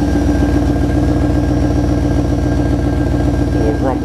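An old, rusty vehicle's engine idles with a steady low rumble, loud and close throughout, its even pulsing unbroken for the whole stretch.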